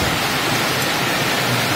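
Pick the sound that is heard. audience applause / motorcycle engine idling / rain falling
rain falling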